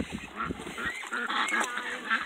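Ducks honk and quack in a short, close series of nasal calls over light background noise.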